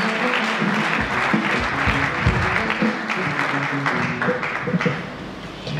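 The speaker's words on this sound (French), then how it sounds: "Est-ce que tu peux continuer à acclamer Dieu?" A church congregation at a worship gathering claps and cheers steadily and loudly, a dense continuous wash of applause with shouts rising through it, no single voice standing out.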